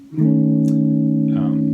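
A single sustained jazz seventh chord shell voicing with a flat 13 extension, held on a keyboard or guitar, rich and close, ringing out evenly after a soft attack.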